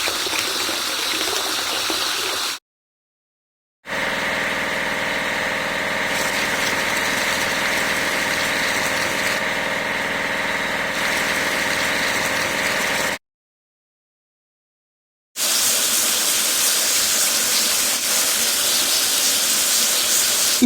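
A video-game harvester being washed with a water sprayer, a steady hissing gush of spray over a droning engine idle, interrupted twice by brief silent gaps.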